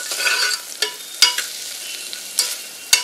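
Tomato and onion sauté in a pan, a soft steady sizzle broken by several sharp scraping stirs of a spoon at uneven intervals, close and alone.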